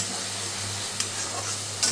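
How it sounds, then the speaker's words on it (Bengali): Spices frying in oil in a pan, waiting for cashew paste to be added; a steady close sizzle with a couple of brief spoon clinks and scrapes, no talking. "আগে তেল ছাড়ুক এর থেকে ভালো মতো ভাজা ভাজা হোক"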